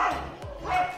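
Dogs in a neighbourhood street in India bark at monkeys, two loud close yelping barks about half a second apart with a brief whine between them.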